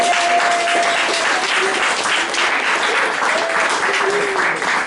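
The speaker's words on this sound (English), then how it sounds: "a big round of applause for the Balliner family for again hosting it" An audience at a USC awards ceremony claps and cheers loudly, a dense continuous burst of applause that holds steady for a few seconds.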